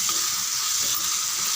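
Tomatoes and chillies sizzle steadily in a hot pan for tomato chutney, a close, even frying hiss with no talking.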